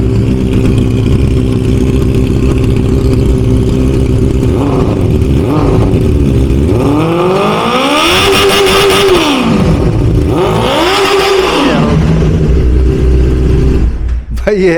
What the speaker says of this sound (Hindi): ये भी इनलाइन 4 है। अब साउंड इसका।